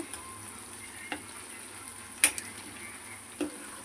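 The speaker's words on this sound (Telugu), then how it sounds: "ఇలా మెల్లగా కలుపుకుంటూ దూరగా అయితే వేయించుకుందాం." Mutton pieces for pickle fry in a pan with a steady, soft sizzle, broken by a few sharp taps and scrapes as they are slowly stirred.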